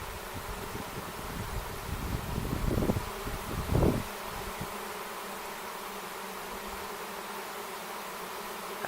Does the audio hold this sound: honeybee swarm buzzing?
yes